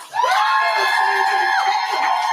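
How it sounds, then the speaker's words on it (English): A crowd at a poetry slam roars with loud cheering, whoops and yells as the next poet comes to the stage, a dense, sustained burst from start to finish. "Please welcome and clap a lot for our next poet coming to the stage right now"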